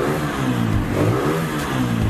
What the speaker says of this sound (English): Jason's gonna try the bike.